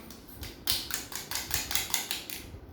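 Knife chopping brinjal (eggplant) pieces on a board, a quick run of about eight close, sharp rhythmic taps and knocks in steady succession, with no voices.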